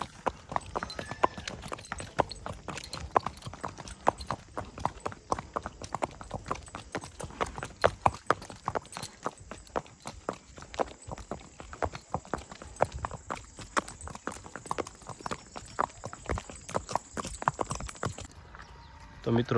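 A mare's hooves clip-clop in a steady, brisk rhythm on hard ground, close and fairly loud across the whole stretch, with occasional voices talking in the background.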